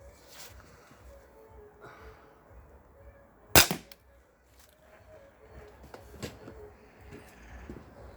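An Armex Tomcat 2 fires off once with a single sharp, loud crack close by, sudden and brief against an otherwise quiet background.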